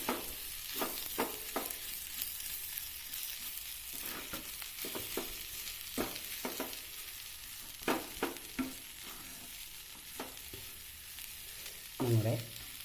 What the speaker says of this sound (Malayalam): ഇളക്കി യോജിപ്പിക്കാം.